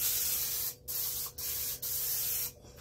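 Cooking spray hisses from an aerosol can onto baking pans in a home kitchen, about four close, loud bursts with short gaps between them.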